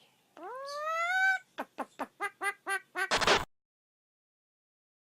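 A rescued duck with a damaged wing gives a drawn-out call followed by a rapid run of seven or eight loud, close nasal quacks, ending in a harsh rasping burst before silence.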